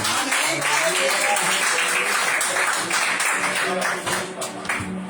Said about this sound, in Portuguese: as palmas que louvam o nome do Senhor Jesus